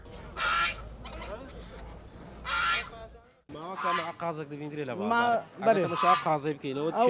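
Loud, close honks from Bulgarian geese in two bursts, followed by someone talking over the birds' continued calls.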